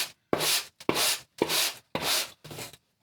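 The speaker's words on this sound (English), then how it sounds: "I'm just going to use a stiff brush and just gently, while supporting it from the back," A stiff brush scrubs old foam off a polystyrene car headlining board from an MK2 VW Golf, six distinct rough strokes, each about half a second, close and fairly quiet with short pauses between them.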